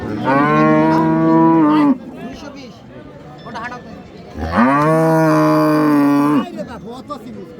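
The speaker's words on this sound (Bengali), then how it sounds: "গরু তো মানিক ভাই আজকে সোমবারে হাট, গরুর পরিমাণ তো কই, গরু তো দেখি না আজকে।" Cattle at Raniganj livestock market in Dinajpur, Bangladesh, where Friesian cows with calves are sold: two long, loud, close moos, each lasting about two seconds, with market chatter and talk in between.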